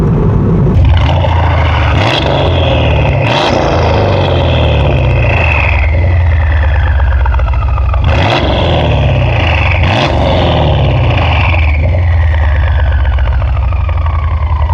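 An E550 car strapped to a dyno, its engine revving loud and continuous, with repeated rising sweeps as it pulls through the rpm range and drops back, no talk over it.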